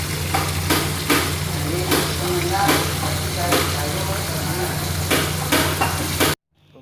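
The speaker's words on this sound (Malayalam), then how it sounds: "നല്ലോണം വേവിക്കണം, നല്ലോണം ഫ്രൈ ചെയ്തെടുക്കണം" Shrimp frying in a pan for shrimp roast: a steady close sizzle broken by repeated scraping stirs and clatters of the spoon against the pan, under a low hum, ending abruptly.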